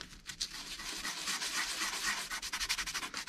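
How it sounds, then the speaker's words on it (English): Fine 220-grit sandpaper rubbed across cork on an old fishing pole handle, giving a steady, close scratchy rasp in quick repeated strokes that quicken toward the end. "I got some fine sandpaper. I'm gonna see if I can't sand that."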